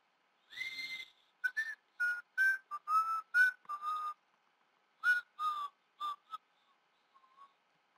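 Someone whistles a tune in a series of short, clear phrases with brief pauses between them, fairly faint and alone, with no talking.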